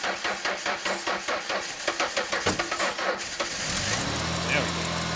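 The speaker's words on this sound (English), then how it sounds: "let me start it up and cycle through the gears and get it get a little warm" A 1999 Ford Mustang cranks with a rapid, rhythmic starter churn for about three seconds, then catches and settles into a steady, rough idle. The sound is close and moderately loud, with no speech over it.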